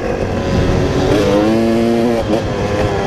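A motorcycle ridden off-road, engine loud and close, revving up through rising tones and then easing back, with no talk over it.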